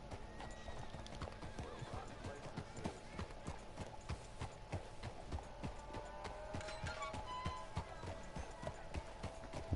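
Horse hooves clip-clop in a steady trotting rhythm in the video game Red Dead Redemption 2, close and continuous, with a neigh and faint game ambience.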